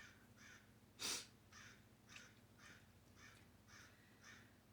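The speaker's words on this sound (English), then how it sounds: "Do you hear the crow?" A crow caws outdoors, one sharp louder call followed by a series of evenly spaced fainter caws, distant and fairly quiet against a calm background.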